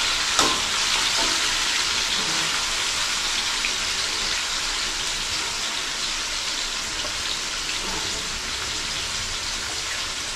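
Chicken pieces fry in a pan with a steady, close hissing sizzle and scattered crackles, continuing unbroken for about ten seconds with no talking.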